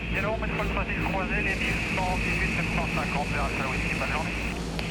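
A Canadair firefighting water bomber takes off during a wildfire campaign in Provence, its steady, droning engine roar filling the background while people talk over it throughout.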